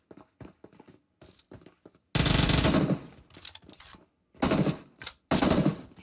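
An Uzi submachine gun fires in the video game PUBG Mobile, with short, sharp bursts of rapid shots that break into several loud sustained volleys, close and punchy, with no talk.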